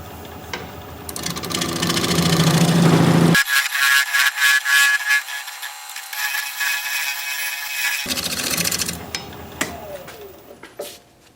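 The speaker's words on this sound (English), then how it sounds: "slow the speed down a little bit, just for controllability, and cut that little knob off of there. About 800 RPM." A wood lathe at about 800 RPM as a gouge cuts a small knob off a turning, with a close, loud rattling cut that stops abruptly into quieter spinning, then resumes with more clattering.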